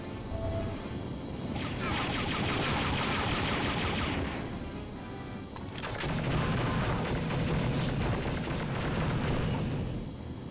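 Arm cannon weapon firing in the Star Wars: Dark Forces Remaster shooter, rapid loud blasts and explosive bursts that run continuously with game noise layered throughout.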